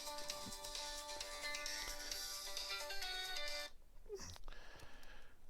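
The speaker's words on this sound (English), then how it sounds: "I need to take that phone call." A phone ringtone for an incoming call plays as a steady, melodic electronic tone loud and continuous for nearly four seconds, then stops abruptly, leaving quieter room noise and a brief sound.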